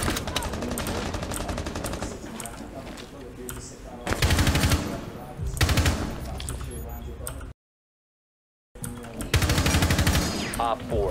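Automatic and single gunfire in the video game Rainbow Six Siege, loud bursts repeating in clusters with a brief silent gap partway through, while players talk over the shooting.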